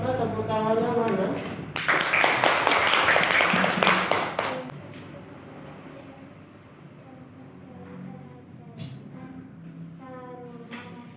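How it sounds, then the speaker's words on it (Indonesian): An audience breaks into loud, dense applause for about two seconds, dying away quickly, with a person talking before and after. "tepuk tangannya mana?"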